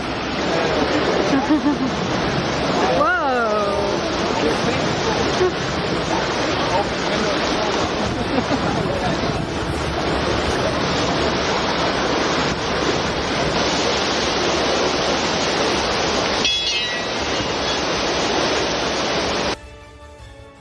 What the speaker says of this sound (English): Someone has just hit a fire hydrant or water valve of some kind.